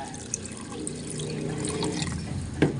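Water splashes into a cooking pot holding sinigang ingredients such as washed tomatoes, a soft continuous pour at close range with a brief clatter near the end.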